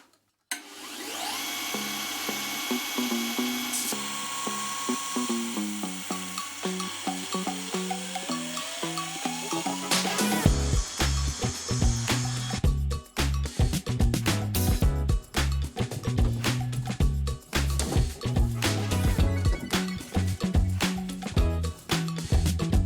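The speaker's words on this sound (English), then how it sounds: "What I like to use is either a belt sander like this, or a handheld one, or a finger sander" A belt sander works in a workshop during an overland vehicle build. Its motor whines up to speed over several seconds, then a loud, steady, rough abrasive roar with pulsing grit follows close by, with no talk.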